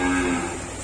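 A female Simmental-type cow bellows in a single sustained low moo during unloading from a livestock truck, close and loud.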